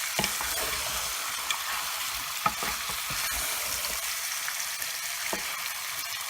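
Goat meat fries on high heat with onion, garlic and ginger paste, giving a dense, continuous sizzle close by, broken by occasional scraping stirs and small pops.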